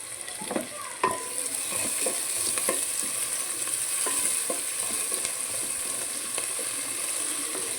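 Vegetables with tomato, capsicum, carrot and onion sizzling in a pan for semiya upma, a steady hiss under intermittent scraping stirs and light clinks, close and moderately loud, with no talk.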